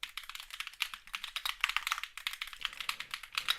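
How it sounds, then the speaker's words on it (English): Rapid, steady computer keyboard typing close by, picked up by a SteelSeries Arctis Nova 3 Wireless headset microphone, a continuous clatter of keystrokes with no voices. "I'm going to type on my keyboard right now"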